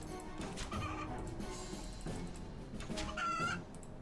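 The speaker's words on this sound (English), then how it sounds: "Dodge these chickens." Chickens cluck in the RuneScape 3 Dominion Tower video game, with fowl calls sounding repeatedly amid busy game combat noise, and one clearer squawk near the end.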